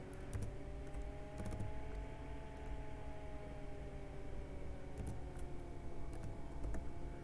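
C++ code is typed on a computer keyboard in a steady stream of soft, close key clicks over a constant electrical hum and faint background noise, with no speech.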